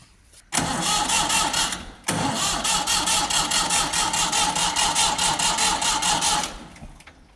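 After the fuel system has been bled with one bleed screw left out, an engine cranks briefly, pauses, then catches and runs loudly and steadily for several seconds before cutting off.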